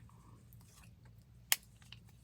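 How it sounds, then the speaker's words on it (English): A single sharp snip of scissors cuts during satin weaving work. It is brief and crisp against a quiet, faintly humming room. "let me get my scissors"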